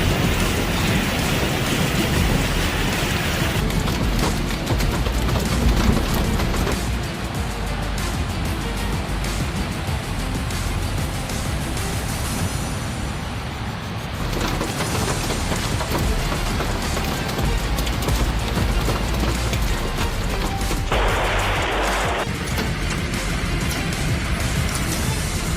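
A Colorado hailstorm hammers down as a continuous roaring clatter, loud and unbroken for the whole stretch, with occasional deeper rumbles beneath the dense pelting.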